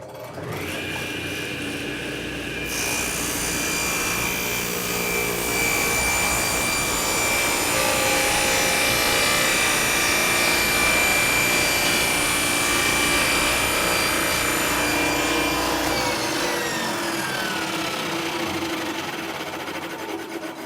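A table saw cuts through the front fence and base of a wooden crosscut sled, a loud, continuous whining roar that holds steady for nearly twenty seconds before the blade starts to wind down.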